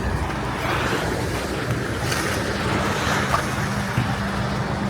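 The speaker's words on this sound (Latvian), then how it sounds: "Šodien jūra jau ir mierīgāka." Calm sea waves washing steadily along a shore in Turkey, a continuous close wash of surf with some wind noise on the microphone and no voices.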